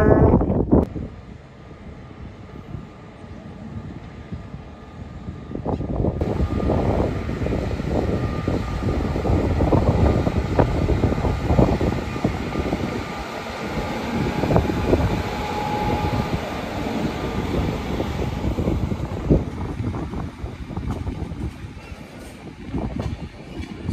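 A train rumbles past nearby, a steady rolling roar with clanks that swells and then gradually eases off.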